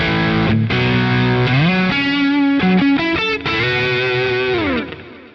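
Electric guitar through a Marshall Plexi amp model on a Quad Cortex with a Timmy overdrive pushing it, a loud, driven tone of sustained chords and sliding notes played alone.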